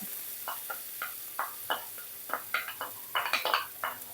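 Hand-pounded red curry paste being stir-fried in a pan, with repeated scraping and clinking strokes of a spatula against the pan over a soft sizzle, in quick irregular bursts and no speech.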